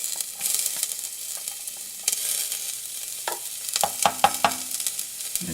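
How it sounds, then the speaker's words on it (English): Garlic sizzles as it fries in a pan while being stirred, with soft scraping strokes and clicks in the second half over a steady hiss, close and moderately quiet, no talk. "First, I like to put my garlic first."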